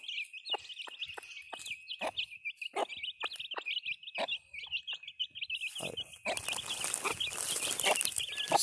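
Hen with six chicks on a farm, a continuous chorus of high peeping chicks with repeated low clucks from the hen, followed near the end by a louder rustling, scratching burst.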